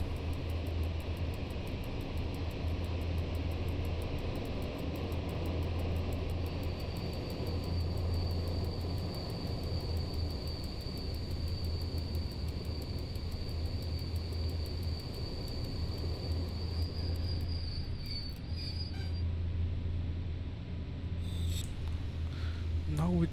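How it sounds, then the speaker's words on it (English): A passenger train braking to a halt at a station in the Simrail simulator on the Starzyny–Kraków route, a steady low rumble with a thin high brake whine that fades as it stops, a voice talking over it. "Let's stop this train at the station."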